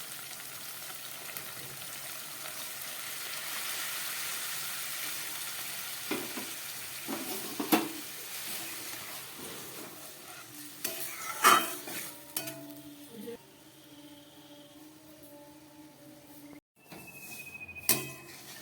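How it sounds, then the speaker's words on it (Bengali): A pot of mixed mung, pea and pigeon pea lentil dal at a boil, a soft continuous hissing bubble with occasional clinks and scrapes of a utensil against the pot. "ডালটা আমার ফুটে উঠেছে।"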